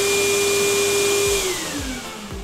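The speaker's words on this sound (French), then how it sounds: "donc c'est ce bouton là pour mettre en route l'aspirateur." A DeWalt vacuum cleaner runs with a loud, steady motor whine that then sags in pitch as the motor slows, with a few soft clicks near the end.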